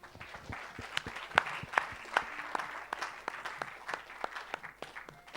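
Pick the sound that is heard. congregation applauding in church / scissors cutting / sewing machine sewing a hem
congregation applauding in church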